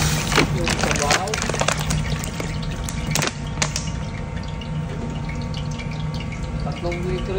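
Three to four and a half litres of water poured into a cooking pot for chicken bola-bola soup, a steady running, splashing wash with brief clinks, alongside a voice in the background.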